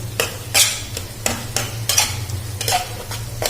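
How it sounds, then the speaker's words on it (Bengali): Egg being stirred into frying vegetables for Bangladeshi-style pasta, a spoon scraping the pan in regular strokes about twice a second over a steady close sizzle. "ডিমটা ভালোভাবে এগুলোর সাথে মিক্স করে নেব।"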